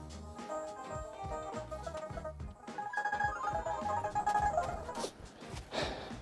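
A landline telephone rings indoors in a workshop, several electronic ring bursts repeating over a few seconds at moderate loudness with no talking.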